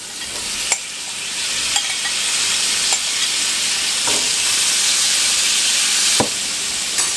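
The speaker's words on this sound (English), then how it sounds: "Now that this is kind of hot, we're just going to add in the Brussels sprouts." Brussels sprouts sizzling in a hot pan, a loud, steady frying hiss filling the whole stretch, broken by a few sharp clicks of stirring or pan contact.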